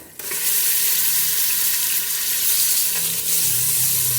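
Beef sizzling in a pot with ginger-garlic paste, a steady, loud frying hiss running throughout with a faint stir partway through.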